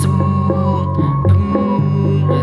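Music with a deep, booming bass line from an audio amplifier's loudspeaker, low tones swelling and sustaining beneath the melody, fairly loud and close.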